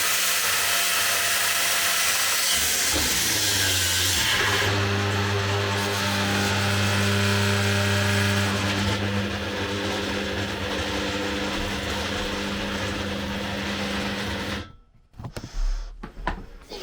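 A Milwaukee angle grinder whines loudly at high speed, bogs down as its disc jams and its pitch drops in stages, then cuts out automatically, followed by a few clunks.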